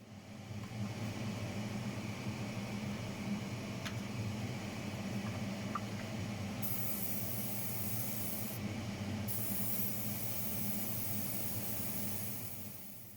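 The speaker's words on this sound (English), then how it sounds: "airbrushing lightly over the body sides, roof and even the yellow ends" An airbrush sprays Vallejo blue-grey paint lightly over a model train body, a steady, soft hiss of air throughout, with a faint click or two.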